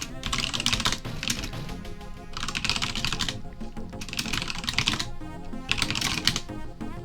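Someone types on a computer keyboard in bursts of rapid, close, crisp key clicks, separated by short pauses, with no voice over them.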